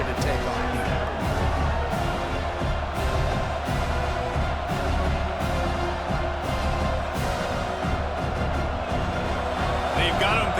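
A stadium crowd roaring in a college football sim game between Kansas State and Utah, a dense constant wash of cheering with rhythmic stomping pulses, while a commentator talks over it.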